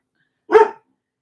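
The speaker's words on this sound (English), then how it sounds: "at times you might hear dogs barking or other things howling." One dog gives a single short, sharp bark at moderate distance. Silence surrounds it before and after.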